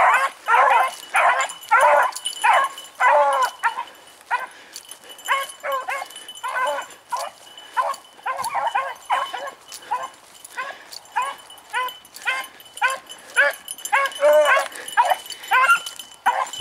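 Several hunting dogs, two of them brown, bay hard on a rabbit trail, a dense and nearly continuous chorus of loud, close howls and yelps that overlap in a fast, ragged rhythm.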